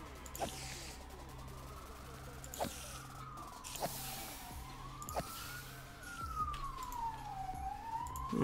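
An ambulance siren wails in slow rising and falling sweeps at a moderate distance, over background noise and a few sharp clicks.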